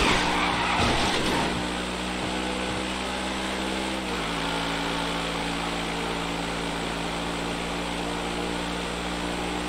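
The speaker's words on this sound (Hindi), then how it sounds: "बुगाटी की इंजन साउंड तो काफ़ी बढ़िया है, इंजन साउंड के आप लोग मजे लो" A Bugatti hypercar in the video game GTA 5 drones with a steady, loud engine note throughout, a brief tire skid near the start, then a sustained high-speed hum with no talking.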